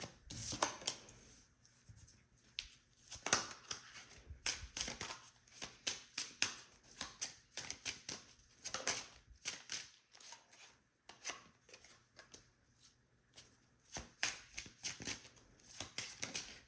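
Lenormand cards are shuffled and drawn, making quiet, close riffling and sliding rustles in quick bursts with brief pauses for about seventeen seconds.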